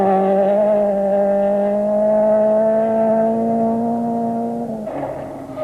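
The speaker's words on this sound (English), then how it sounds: "their 16-valve Golf sounding good and going well" A 16-valve Volkswagen Golf rally car at the 1991 Mountain Trail rally drives hard on a stage, its engine a loud, near, sustained high rev that holds steady before dropping off sharply near the end.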